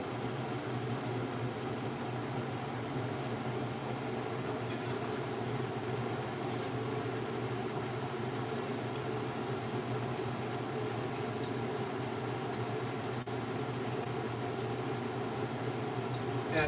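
Steak gorditas frying in oil in a Lancaster cast iron skillet, a steady, even sizzle and crackle that holds throughout at moderate volume with no talking.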